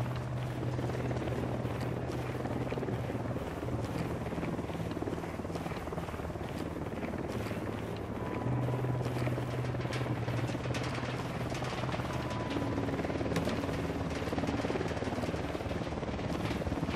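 A helicopter in the Ghost Recon Wildlands video game drones steadily throughout with a continuous rotor thrum, loud and unbroken, while faint game noises sit underneath.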